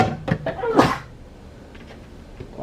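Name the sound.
sneeze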